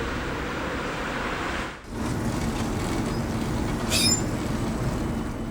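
A tram on the Uithoflijn line in Utrecht rumbles steadily from inside the car, with a short dip in the noise partway through and a brief high wheel squeal near the end.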